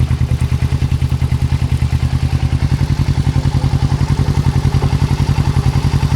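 A motorcycle engine idling close by, a loud, steady rapid thumping pulse that holds without change for the whole stretch.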